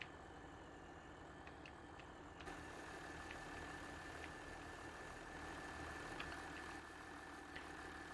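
Farm tractor engine idling in the video game Farming Simulator 17, a low steady rumble holding even throughout with faint ticking clicks on top and no voices.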